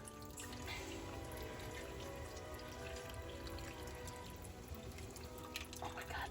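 Orange juice being squeezed from a halved orange into a pot of water and sugar, a steady watery trickle and patter that runs throughout with faint background sounds.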